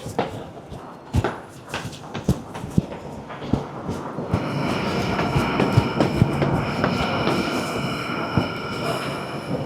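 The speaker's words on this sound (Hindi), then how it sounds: "ये हमारी ट्रेन थी जो निकल गई है।" A train pulls out of a station platform in Sydney, with wheel clatter and squeal building into a loud, steady rumble of passing carriages; no speech.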